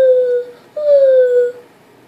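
A voice imitates an owl call with two drawn-out, falling hoots, the second longer than the first, close and clear with no other sound around it.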